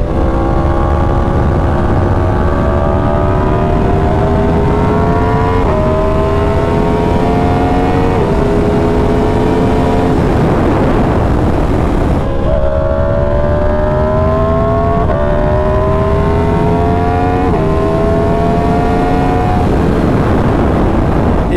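Yamaha R1M motorcycle ridden hard, its loud high-revving engine climbing in pitch and dropping back with each gear change, a steady run of upshifts and downshifts with constant wind roar and no talking.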